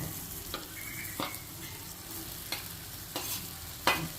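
Bitter gourd sautés quietly in oil in a pan, a soft steady sizzle broken by a handful of sharp scraping stirs spaced about a second apart, with no one speaking.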